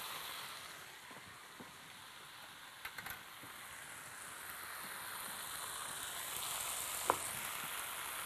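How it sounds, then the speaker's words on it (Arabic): Lamb ribs sizzle and crackle steadily over an open fire, a continuous close hiss with occasional small pops, no voices present. "ونشوي على النار."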